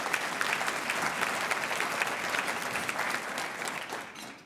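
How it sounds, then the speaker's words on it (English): An audience at a 2016 State of the Village Address applauds executive assistant Linda Molitor, a full, even round of clapping that gradually thins and fades out. "So please give her a round of applause"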